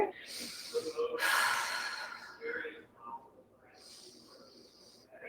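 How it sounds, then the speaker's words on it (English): Deep breaths taken during a winter yoga sequence: a sharp nasal inhale, a long airy exhale, then another slow breath in and out, close and clear. "Let's take 3 deep breaths here."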